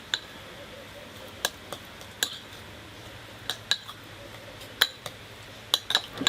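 A utensil stirs a creamy bacon filling for stuffed jalapeno bites, giving about a dozen sharp, irregular clinks and taps against the bowl over a soft, steady background hiss, with no talking.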